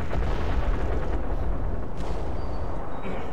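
German artillery firing in Company of Heroes, a dense continuous roar of booms and rumbling blasts with no clear gaps, loud and close throughout.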